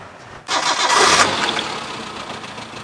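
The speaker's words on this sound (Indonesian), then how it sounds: "Sekarang kita starter, kita dengerin suara langsamnya." A 1995 Suzuki Futura van cranks and fires up abruptly after a short quiet moment, then settles into a steady, close mid-pitched idle that eases slightly in volume.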